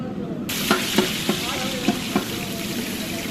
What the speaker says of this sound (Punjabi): ਗੰਢਿਆਂ ਦਾ ਤੜਕਾ ਲਾਤਾ ਜੀ